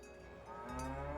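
A cow lows inside the video game Dungeons of Hinterberg, one sustained, fairly loud moo that swells near the end, with no talking over it.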